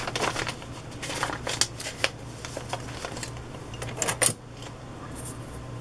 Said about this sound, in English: all I'm doing is folding paper